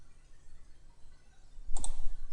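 A single pair of crisp mouse clicks lands close and sharp, the kind made while sketching lines and circles in Autodesk Inventor 2015, with no talking over it.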